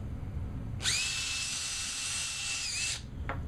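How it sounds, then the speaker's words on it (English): An electric drill bores a hole into the end of a short piece of broom handle, giving a sustained high whine for about two seconds that rises sharply and cuts off, alone over a quiet background. "we're going to drill a hole at the end of it,"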